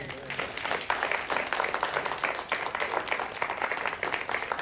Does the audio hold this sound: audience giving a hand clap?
yes